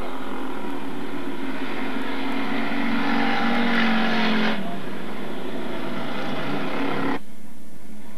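Old dirt track race cars at a Billings speedway roar past in a dense, loud pack; engine noise swells, cuts down sharply midway, then continues at a lower level before dropping out near the end.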